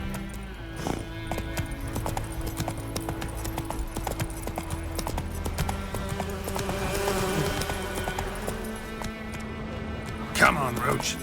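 Roach, a horse in The Witcher 3, gallops with quick, rhythmic clip-clop hoofbeats throughout. The hooves sit under steady game music and voices, with a brief louder flourish near the end.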